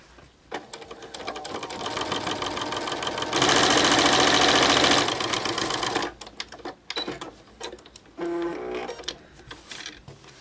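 A sewing machine fitted with an edge joining foot stitches fabric in a steady, loud mechanical whir that surges into a dense burst midway, then breaks into shorter start-stop runs.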